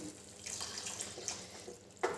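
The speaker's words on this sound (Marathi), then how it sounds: "थोडं पाणी घालायचं आहे" Water is poured into a pan of peas and paneer in spices, running and splashing in a thin, uneven stream with small gurgles, ending in a brief louder splash; quiet and nearby, no speech.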